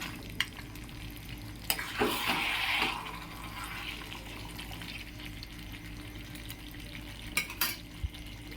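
Fried lentil dumplings (bori) are stirred once in a hot pan, giving a brief burst of sizzling and scraping over a steady background hiss, with a few isolated clicks.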